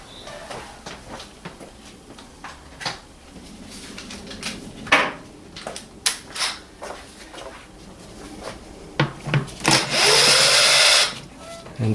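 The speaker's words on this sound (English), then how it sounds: "we're going to undo some Torx screws" Torx screws come undone on the engine cover of a 2004–2011 BMW E87 116i: scattered close metallic clicks and taps, a few short tool whirs, then a louder burst of harsh buzzing near the end.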